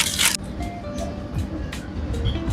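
Cars pass along a busy road in Greece, with a loud whoosh at the start and then a steady rumble of traffic broken by brief swells as vehicles go by.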